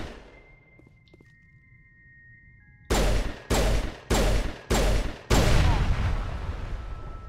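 Bursts of gunfire in Mass Effect 1 Legendary Edition, shooting down kinetic barrier fields in a bunker complex: after a quiet start, four loud clipped volleys in quick succession give way to a sustained stretch of continuous shooting.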